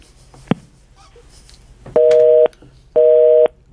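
Telephone busy signal after a caller hangs up on a radio call-in line: two loud, steady electronic tone bursts about half a second each, separated by silence, following a short click.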